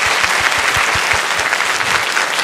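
Audience applause for a competitor at the end of an Eitoro vs Susumu match, a dense steady clapping from a crowd that holds at an even level throughout.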